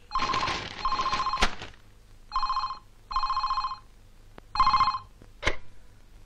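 A telephone rings in repeated short trilling bursts with brief pauses between them, clear and moderately loud in a quiet room, broken by a couple of sharp clicks.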